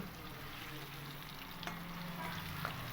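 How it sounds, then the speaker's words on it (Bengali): Paneer pieces fry in shallow oil with a quiet, even sizzle and a few faint stirring clinks, heard close with no talking. "দেখুন পনিরটা ভাজা হয়ে গেছে হালকা লালচে কালার চলে এসছে পনিরের গায়ে"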